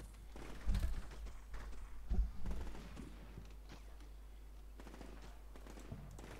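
Bursts of gunfire in Combat Mission Shock Force, two heavy thumping volleys early on with a few scattered lighter shots after, moderately distant and otherwise quiet.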